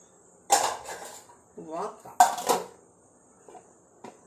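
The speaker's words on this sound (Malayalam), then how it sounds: "ബാക്കി പിന്നെ ഒന്നിച്ച് കഴുകാം പാത്രം കഴുകാനുള്ളതുകൊണ്ട്" Dishes and cutlery clatter in a few bursts, metal and ceramic knocking together close by, with short pauses between.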